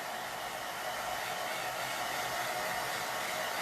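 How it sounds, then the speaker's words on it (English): Blow dryer drying chalk paste on a Halloween phrase project, a steady, loud, close whoosh of airflow running unbroken without talk. "So we're just going to dry it with a blow dryer super duper quick."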